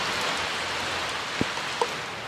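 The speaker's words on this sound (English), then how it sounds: "But with this rain, you can't do it." Steady rain hisses softly, with a couple of distinct drips or taps standing out near the end.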